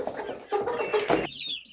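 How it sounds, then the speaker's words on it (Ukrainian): Chickens clucking close up, overlapping calls with high chick peeps near the end, loud and busy. "А ось показую своє курчатко."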